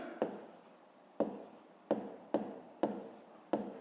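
A pen scratches numbers onto paper while working a long-division problem: six quiet, separate strokes spaced roughly half a second apart, faint and close, with no speech.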